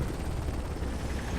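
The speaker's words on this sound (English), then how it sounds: "Helicopter noises continue." Helicopter noise in the war video game Combat Mission: Black Sea, a faint, steady low rumble with no break over a short stretch.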